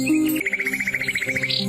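Close, rapid chattering from a fieldfare, a thrush, given as one quick, even run of about a dozen harsh notes. No other sound competes with it.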